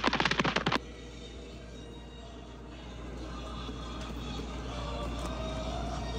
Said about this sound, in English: it's so much fun to watch Disney fireworks at the Walt Disney World